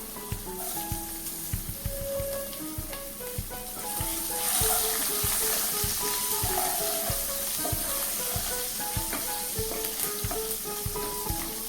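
Green chillies and garlic pieces fry in hot oil with a continuous soft sizzle, swelling a little partway through. Faint stirring clicks come now and then, and melodic background music plays along.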